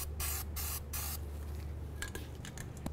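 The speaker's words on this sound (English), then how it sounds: "Now we're going to apply some copper never seize to the threaded area of the inner tie rod end." Three short hissing spray bursts of copper anti-seize aimed at the threaded inner tie rod of a Dodge Journey, followed by faint clicks and handling noises close by.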